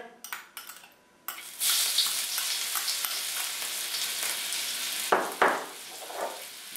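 Garlic sizzling in hot oil in a wok starts after a few quiet clicks, a steady loud hiss close by, with a couple of sharper spattering bursts toward the end.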